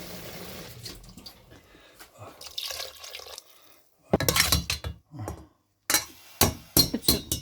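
Water is poured into a cooking pot for rice with meat, a soft trickle followed by louder splashing bursts and clinks, close up with a little faint talk.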